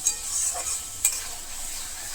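Tomato masala with potatoes for a vegetarian curry is stirred and fried in a pan, giving a continuous low sizzle with two brief spoon scrapes near the start.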